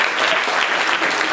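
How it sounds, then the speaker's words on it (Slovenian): Audience applause at a Russian-themed evening show, a dense, steady burst of clapping from a crowd, loud and close throughout with no break. "Aplavz,"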